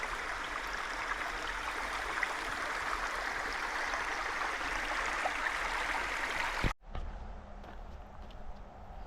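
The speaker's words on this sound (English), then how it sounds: "And here's another creek crossing." A steady rush of flowing creek water fills the scene, constant and fairly close, then cuts off abruptly near the end, leaving quieter background noise.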